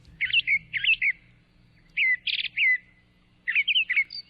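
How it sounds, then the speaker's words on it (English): A bird repeatedly sings short, bright chirping phrases in three separate bursts, clear and fairly close against a quiet background. "What a cool sounding bird."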